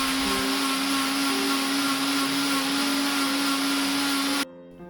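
A blender grinds grated coconut with warm water loudly and steadily with a constant motor whine, then cuts off abruptly near the end, leaving quiet.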